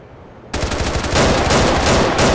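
Rapid automatic gunfire in Grand Theft Auto IV bursts in after a brief quiet half second, loud, dense and continuous to the end with short breaks between volleys.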